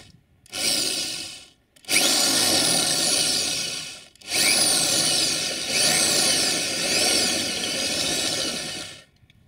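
A power drill whirs loudly in several long bursts with short pauses between, grinding steadily into material up close during repair of a UAZ Patriot windshield wiper.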